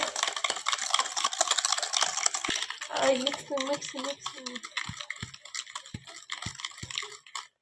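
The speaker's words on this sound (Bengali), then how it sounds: "চিনি ভালো করে মিক্স করতে হবে" Sugar, about two tablespoons, stirred by spoon into a chocolate biscuit cake batter in a bowl, heard as quick scraping clinks that follow a stretch of louder mixing noise, with talk nearby.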